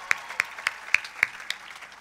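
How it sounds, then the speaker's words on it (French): Scattered hand claps from an audience at a university science faculty graduation ceremony, about six distinct claps spaced unevenly over two seconds, fairly quiet and thinning out rather than a full ovation. "On applaudit très fort Jean-Paul pour ces mots"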